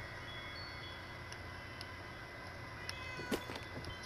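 A cat in the video game Fallout 76 meows faintly a few times over a low steady game background hum, with one short louder cry near the end.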